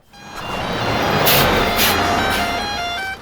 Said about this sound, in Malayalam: സർ, പോകാനുള്ള ബസ് പുറത്ത് വന്നിട്ടുണ്ട്.